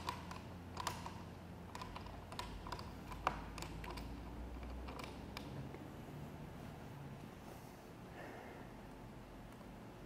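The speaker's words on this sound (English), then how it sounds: "we'll pull up on it so we can tighten our black T-handle down" A black T-handle on a Yakima ForkLift roof-mounted bike carrier clamp being tightened, with soft clicking and ratcheting ticks, irregular and close, over a quiet background hum.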